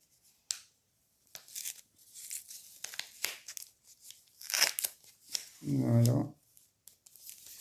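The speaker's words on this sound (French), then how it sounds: "je vais ouvrir le courrier hors caméra" Paper tearing and crinkling as a grey pearly envelope from Action is opened, a string of short rips and rustles close up, with a brief spoken word partway through.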